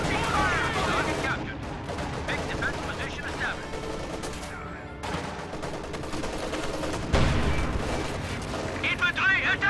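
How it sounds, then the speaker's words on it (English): Bursts of machine gun fire from a stolen MG34 ring out in a World War II strategy video game, rapid rattling volleys mixed with distant explosions and battle noise, with a commentator talking over it. "Stolen MG34 suppressing some stuff over there."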